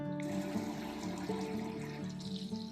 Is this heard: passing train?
no